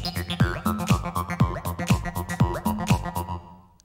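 A granular Western flute one-shot plays on an oscillator of the VPS Avenger synth, repeating in a quick, even pulse of breathy tonal blips, each with a downward pitch drop, before fading out at the end.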